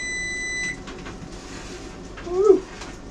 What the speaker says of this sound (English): timer's going off again